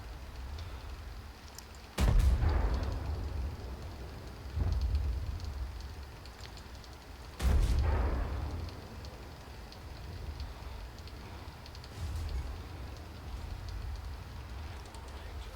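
Warship guns in a Tier 3 World of Warships battle fire high explosive shells, with two heavy booms that roll off into rumbling decay and a few softer blasts in between, over a steady background drone.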